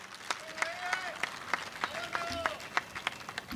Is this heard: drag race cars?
no